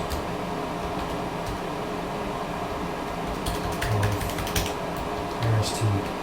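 Typing on a computer keyboard while setting up an online course outline, scattered soft key clicks over a steady fan-like room hum, fairly close.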